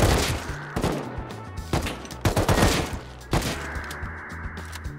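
Bursts of rapid gunfire crack loudly in a multiplayer shooter game, several sharp volleys and single shots in quick succession, with a few background sounds between them.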